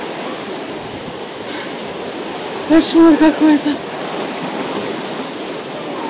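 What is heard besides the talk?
rain and strong wind outside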